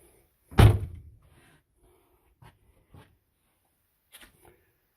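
Camper cabinet doors are tugged while locked: one loud wooden thunk and rattle, followed by a few faint, scattered knocks and clicks in an otherwise quiet space.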